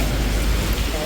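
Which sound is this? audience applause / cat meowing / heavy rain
heavy rain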